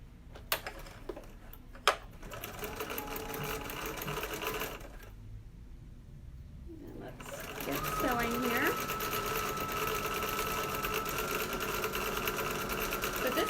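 A sewing machine runs a lengthwise seam on a fabric pillow wrap, a steady close mechanical whir that pauses briefly midway and then resumes, with a voice talking over it.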